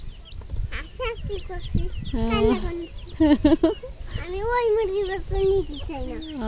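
Small chicken chicks peep in high, rising chirps, close by, while people talk intermittently over them.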